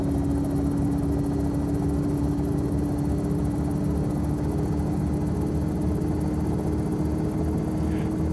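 A Dynali helicopter in X-Plane 11 runs steadily at speed, its engine and rotor giving a continuous, loud, droning whine with a constant tone throughout, no voices over it.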